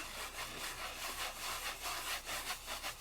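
A finger rubs back and forth over a stamped craft image, giving quiet, close, rhythmic scratchy strokes that repeat steadily with no talk.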